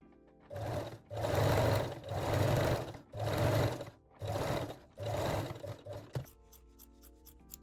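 A sewing machine binds the top edge of a bralette in five steady bursts of whirring stitching, each about a second long with short pauses between, then a few quick clicks and a final short run.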